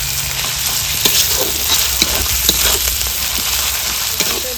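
Ginger-garlic paste and whole garlic cloves fry in hot oil for a Bengali meat and vegetable curry, a loud steady sizzle punctuated by repeated short stirring clicks, close up with no speech.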